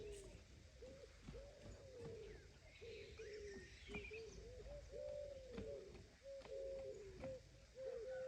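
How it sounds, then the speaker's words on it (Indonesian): Doves coo repeatedly in soft, rhythmic phrases outdoors, with faint chirps from other birds in the background and no talking. "dengerin suara alam dari si burung-burung"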